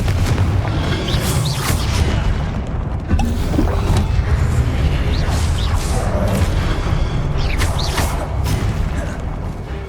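Repeated Confringo fire spell blasts boom and crash through a Hogwarts Legacy battle against statues, dense heavy impacts and whooshes overlapping continuously, with brief spoken incantations.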